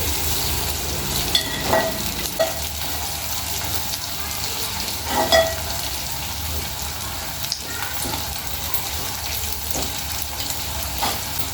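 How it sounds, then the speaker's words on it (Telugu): Chicken frying in a pan with ginger paste and onions, giving a steady, loud sizzle with occasional sharper crackles and stirring scrapes throughout. "పచ్చివాసన పోయే వరకు ఇట్లా మంచిగా ఫ్రై చేసుకోవాలి"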